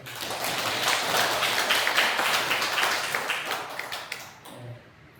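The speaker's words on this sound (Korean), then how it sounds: "우리 하나님께 감사의 박수 올려드리겠습니다" A church congregation claps together in thanks during a Sunday morning service, a dense, steady wash of applause that tapers off and fades out near the end.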